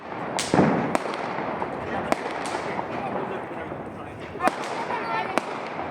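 Firecrackers go off during a Diwali celebration, several sharp cracks and bangs scattered over a noisy outdoor background while people talk and call out nearby.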